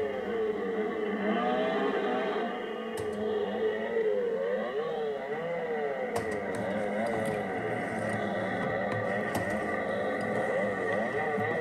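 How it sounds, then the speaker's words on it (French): Motorcycle engine sound effect from a 1968 electromechanical arcade game, a steady droning whine with wavering pitch sweeps, loud and continuous throughout with no talking. "Donc, c'est le son de moto."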